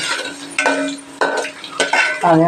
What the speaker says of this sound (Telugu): ఎర్రగడ్డలు కొంచెం వేయించుకుందాం